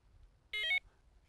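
Carp fishing bite alarm giving a short electronic beep sequence of rising tones as it is switched on and arms, lasting about a quarter second, close and clear against quiet background.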